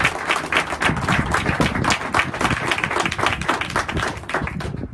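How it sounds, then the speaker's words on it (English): A live audience gives a sustained round of applause, dense clapping from many hands at a steady loud level for the whole stretch, then thinning slightly toward the end. "So I'd like to offer a round of applause to all of them for their really great work."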